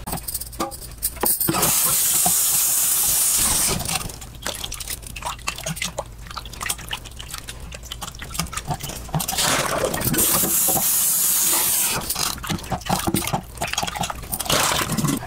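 Fish is scrubbed and rinsed with water and turmeric powder in a home kitchen, a steady run of wet splashing, squelching and dripping sounds that continues, loud and close, with no talking.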